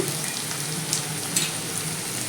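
Potatoes and pointed gourd frying with cumin powder and spices in a pan, a continuous close sizzle with a few sharp crackles and pops, no voices.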